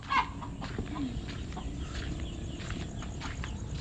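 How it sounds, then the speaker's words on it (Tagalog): A penned rooster on a small farm gives a brief, faint cluck near the start. A steady low background hum and quiet rustling run under it. "yung tandang, kinulong muna namin dito ni Mahal."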